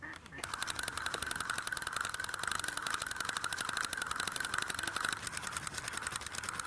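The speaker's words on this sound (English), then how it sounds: "I'll start winding 35 metres of line off the other rod" Fishing line winds off a carp rod with a fishing reel, making a steady, close ratcheting whirr of rapid clicks that runs continuously for several seconds.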